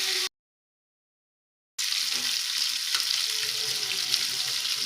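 Fish frying on a flat tava: a steady, moderately loud sizzle, broken by a second and a half of total silence near the start, then resuming evenly with no talk.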